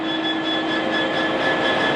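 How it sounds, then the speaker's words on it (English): A Genesee & Wyoming Freightliner freight train rolls past near a car park, giving a loud, continuous rumble with a steady whining hum throughout. "Waiting for that train to go by there."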